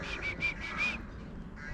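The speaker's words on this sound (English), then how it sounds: "You hear that bird?" Bird in a city street in Ploiesti, Romania, giving a quick series of about five bright, clear whistled calls, then falling silent over low traffic hum.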